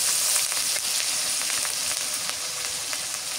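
Fresh-ground paste of ginger, garlic, onion and cumin frying in a pan, a continuous close, loud hiss of sizzling oil with faint crackles throughout.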